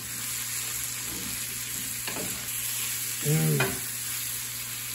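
Pecans and vegetables sauté in a hot pan with a steady sizzle and a few stirring scrapes, and a person briefly murmurs near the end.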